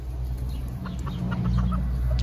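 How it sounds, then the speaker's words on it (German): A flock of roosters kept together peacefully on a farm, clucking and calling steadily at close range over a low continuous background hum, with no talk. "wie friedlich hier die männliche Gockelschar ist"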